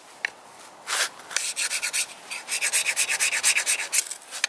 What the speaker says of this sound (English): I probably should scrape away some of the coating